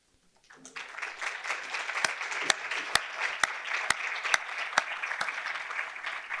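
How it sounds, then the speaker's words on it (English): Applause from an audience at a diabetes symposium, building quickly after a quiet start into steady, moderately distant clapping with several sharp individual claps standing out. "I'd like to give you a round of applause."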